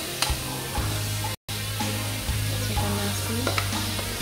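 Rice being stir-fried in a pan for nasi goreng, a continuous sizzle with scraping and stirring strokes of the utensil, close and clear with no talking.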